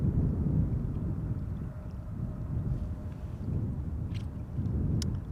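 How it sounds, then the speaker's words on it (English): Wind blows outdoors at Amsterdam Schiphol Airport, a steady low rumbling buffet on the microphone that swells and eases in gusts, with a few faint clicks on top. "I do feel the wind in my neck a little bit"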